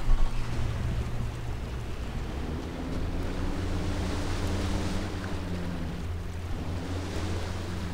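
A small boat on the water in the video game Far Cry 3 putters along with a steady engine drone and hissing water wash, continuous and fairly loud.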